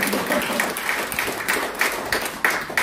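Applause fills a hall at the founding ceremony of an association at the Korea Press Center, a crowd clapping steadily with loud close hand claps, briefly and without talk.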